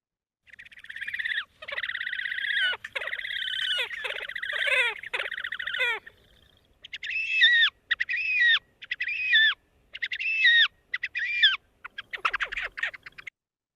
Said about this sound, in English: we'll just compare that again to the horned grebe, which is raspy whinny